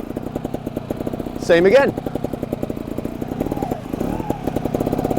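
A 2021 Beta Evo 300 trials motorcycle runs in second gear with a close, loud, rhythmic engine putter that rises briefly, while a person speaks over it.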